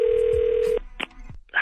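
Telephone line tone for a prank phone call, a steady electronic tone held briefly and then cut off, followed by a few clicks and line noise, loud and close with no talking.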